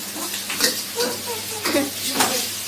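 Food being stir-fried in a home kitchen pan: soft sizzling broken by a few scraping stirs in quick bursts, brief and close.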